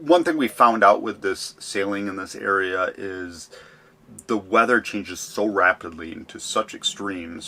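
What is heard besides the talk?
No everyday noises stand out.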